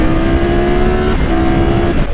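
Triumph Tiger 1200 motorcycle, 150 horsepower engine, riding at steady speed, a loud continuous engine drone with wind rush and a brief shift in pitch midway.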